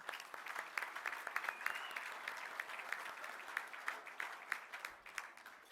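Steady applause from an audience congratulating an Elders Insurance finalist at an awards event, a dense patter of many hands clapping evenly for several seconds.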